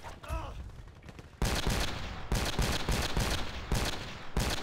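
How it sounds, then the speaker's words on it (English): An SKS rifle in the video game Battlefield Play4Free fires in a fast, dense string of loud shots, close up, with bursts continuing almost unbroken and a brief voice near the start. "that's what happens when you fire the weapon too bloody fast"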